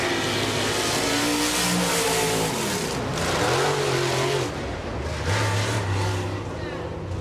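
A race car coming out of turn four on a timed lap, its engine droning and rising in pitch as it accelerates, heard at a distance under steady broadcast commentary.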